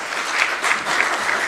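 Applause from an audience at a council development control committee meeting, a steady close patter of many hands filling the room with no talk over it.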